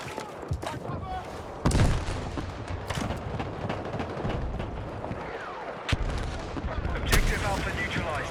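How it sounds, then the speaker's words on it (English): A frag grenade blast and gunfire ring out in the Battlefield 6 video game, with booms and scattered shots over a dense, noisy battle bed, while voices call out over the action. "Throwing frag!"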